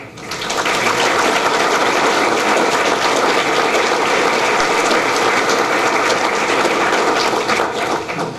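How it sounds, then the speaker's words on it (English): A large audience at the HGS GeoLegends 2015 gathering applauds the standing board, a dense, steady wash of clapping that swells in quickly and holds loud for several seconds before easing slightly at the end. "I would ask that this year's HGS board please stand and be recognized with a round of applause."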